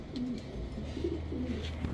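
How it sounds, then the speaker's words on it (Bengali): A red Pakistani pigeon coos softly nearby, several low rolling coos in a row over a quiet background. "এই হচ্ছে 25 কিলো ব্যাক করা এক জোড়া লাল চুল্লি কবুতর"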